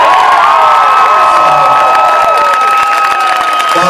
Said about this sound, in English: Ladies and gentlemen, one more round of applause for PK